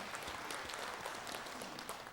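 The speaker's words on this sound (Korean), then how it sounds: "우리 하나님께 영광의 박수 올려드리겠습니다." A church congregation applauds during a Korean Sunday worship service, a steady dense patter of many hands clapping at moderate, slightly distant volume with no voices over it.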